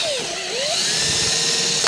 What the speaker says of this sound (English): Should we just drill this whole thing out?